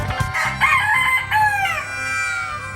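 A rooster kept in a large box crows loudly and close by, a full drawn-out cock-a-doodle-doo after a couple of short clucks.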